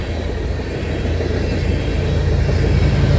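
A BNSF or Union Pacific freight train climbs a grade into Livingston with its distributed-power locomotive working hard, giving a steady, loud low rumble and roar that builds slightly as it passes close by, with no voices.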